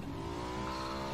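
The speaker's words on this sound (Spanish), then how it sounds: "Es una moto o algo." Revving motorcycle engine heard close and loud, a continuous high buzzing note holding steady over about a second with no talk.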